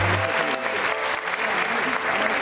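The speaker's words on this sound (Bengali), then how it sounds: "হাততালি হবে তো?" An audience claps continuously and fairly loudly for special guests being welcomed at a dance academy's annual day celebration, a dense sustained round of applause with a voice over it.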